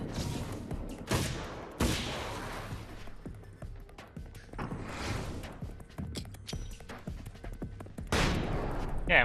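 Gunfire in Alan Wake's American Nightmare, an Xbox Live Arcade game: repeated sharp shots and bursts crack out at irregular intervals over a rumbling, busy game soundscape.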